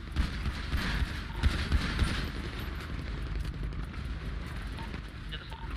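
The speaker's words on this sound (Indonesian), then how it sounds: "Dengerin tembakan nih" Dense, overlapping gunfire bursts crackle in a busy, noisy GTA 5 roleplay soundscape, with sharp shots clustered early and a steady roar continuing throughout.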